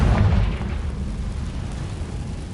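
The Confringo fire spell in the video game Hogwarts Legacy bursts with a deep, booming explosion at the start, its rumble then fading into a low, lingering roar.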